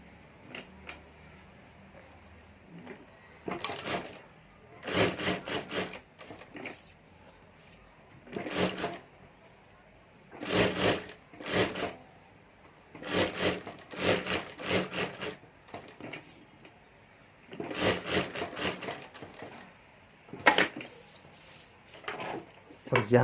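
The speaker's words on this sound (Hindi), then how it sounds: "यहाँ हमें सिलाई नहीं करनी है, तो पहले मैं यहाँ सिलाई कर देता हूँ।" A sewing machine stitching a handbag part, running in several short bursts of rapid mechanical whirring separated by pauses and handling, with quiet talk in between.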